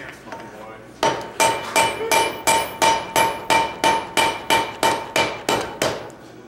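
Blacksmith's hammer striking hot steel while forge welding a heel, a steady series of about fourteen loud, ringing metallic blows at an even rhythm, close up, after a quiet moment.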